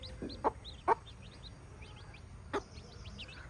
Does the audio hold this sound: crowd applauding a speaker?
no